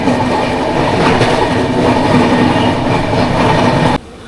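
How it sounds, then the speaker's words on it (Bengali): Loud, steady rumble and rattle of the Darjeeling Mail running on rails near Rangapani toward New Jalpaiguri in heavy rain, continuous wheel clatter at close range that cuts out abruptly near the end. "এই মুহূর্তে আমাদের ট্রেন ঢুকছে এনজিপি স্টেশন"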